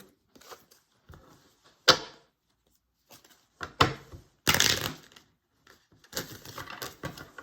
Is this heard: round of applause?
no